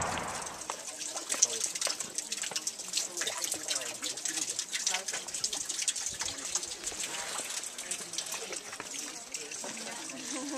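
Water running through ancient Inca stone channels at Machu Picchu in Peru's Sacred Valley, a steady broadband rush and splash that continues without pause, with faint voices mixed into the flow.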